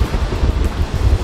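Wind gusting across an outdoor football pitch, a loud low buffeting rumble battering the microphone throughout this short stretch, with no voices.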